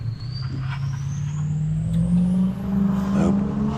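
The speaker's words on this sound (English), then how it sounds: "Oh, we've got somebody pulling in." A vehicle pulls in nearby, its engine droning low and steady, with a rising whine and some squealing as it rolls closer.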